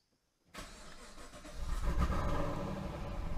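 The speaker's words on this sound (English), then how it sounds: "we'll start the car" A Chevy SS with magnetic ride makes a cold start after its battery is reconnected: a sudden crank catches into a steady idle that swells and settles into a louder, deeper rumble, close and with no talk.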